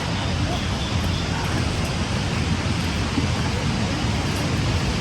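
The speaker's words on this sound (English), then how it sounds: "We are at the waterfall now." Waterfall in Karura Forest, Nairobi, a steady, dense roar of falling water that fills the whole clip at constant loudness, with no breaks or distinct events.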